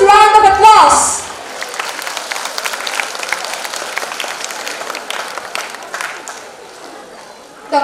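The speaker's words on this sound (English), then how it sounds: "please welcome our guest of honor, Dr. Sunandan Barua, with a huge round of applause" A large audience at a college festival applauds the arrival of the guest of honor. Sustained, dense clapping starts after a brief spoken announcement and continues steadily until near the end.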